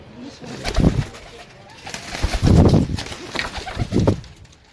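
Pigeons, including young birds, give soft throaty coos and wing rustles in three clustered bursts nearby, with quieter gaps between them.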